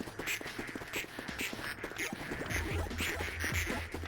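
Cartoonish duck quacks from the video game Project P.I.T.T., set in a duck factory, repeat in quick, overlapping bursts over a busy game soundtrack with a low droning bed.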